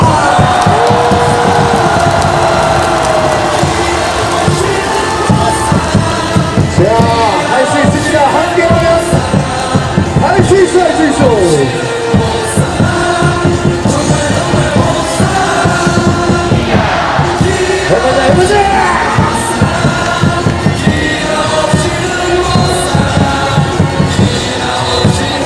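A large baseball crowd at a Korean stadium roars and chants in support of the Tigers during a late-inning rally against LG, loud continuous massed shouting with rhythmic surges and whoops throughout.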